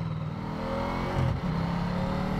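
A Ducati Diavel 1260 motorcycle engine revs briefly, rising in pitch and then settling into a steady, loud drone heard up close.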